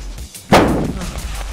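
A premature detonation in a video game produces a single sudden, loud explosion, a heavy boom that rumbles and fades over about a second.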